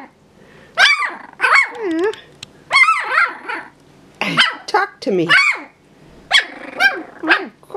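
Several high-pitched yips and barks from young dogs come in short bursts, mixed with whimpers, while a person speaks briefly nearby.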